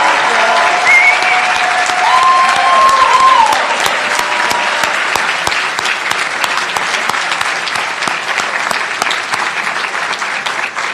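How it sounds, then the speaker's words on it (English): A crowd at a medical school white coat ceremony applauds steadily and loudly, with a brief whistle early on, holding for the full stretch. "So let's give them one more round of applause because we have to."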